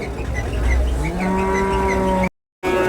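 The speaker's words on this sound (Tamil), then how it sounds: "வந்ததே இந்த மாடுங்க தான் பார்த்திங்கன்னா" Cattle at a native cattle market in Vaniyambadi, India moo with long, low, drawn-out calls nearby, then the sound cuts off abruptly into a brief silence before resuming.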